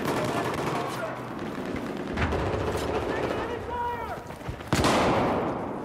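Gunfire in a shooter video game cracks out in several sharp bursts and single shots at close range, mixed with game ambience, while players talk over it.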